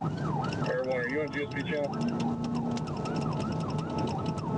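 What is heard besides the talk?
police car sirens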